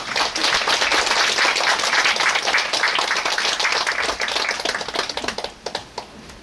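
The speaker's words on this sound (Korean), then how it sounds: "그럼 다시 한번 뜨거운 박수로 모실게요" Warm audience applause at a humanities concert welcoming musical theatre actors to the stage; a loud, dense burst of clapping that thins out toward the end into a few scattered claps.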